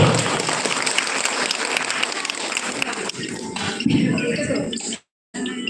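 An audience at a government block development event claps loudly for an honoured guest on stage, a dense burst of many hands that fades into a speaking voice, with a brief dropout near the end.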